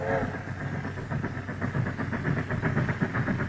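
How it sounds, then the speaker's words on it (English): A diesel-electric locomotive hauls a long train on the Maybrook Line, steady engine throb with rhythmic rail clatter, moderately loud and alone. "With this new diesel electric, the upgrade out of Maybrook is no longer the problem that it was when the steamers were pulling these long trains."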